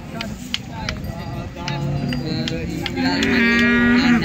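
Jersey cows lowing at a busy cattle market, several moos rising over a constant crowd murmur and background voices, the calls growing longer and louder toward the end.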